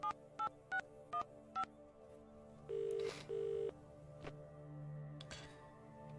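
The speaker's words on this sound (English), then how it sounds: "So now if I pick up the phone..." A telephone in the video game The Dream Machine being dialed: five short distinct keypad tones in quick succession, then two longer ringback tones, close and clean with faint background hum.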